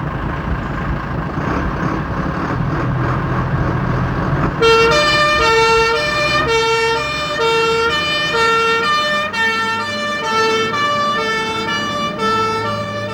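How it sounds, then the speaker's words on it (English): A fire and rescue pump engine drives by. Its engine rumbles alone at first, then a loud, wailing siren starts partway through and cycles steadily to the end. "the most commonly used fire and rescue vehicle, the pump engine"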